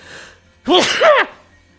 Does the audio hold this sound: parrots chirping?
no